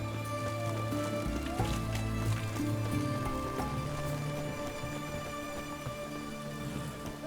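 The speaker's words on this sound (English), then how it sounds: "It's raining, of course it's going to be damp." Steady rain falls across an outdoor scene in The Witcher 3: Wild Hunt, a constant even hiss throughout, with game ambience and faint music tones layered underneath.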